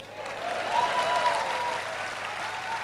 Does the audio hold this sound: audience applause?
yes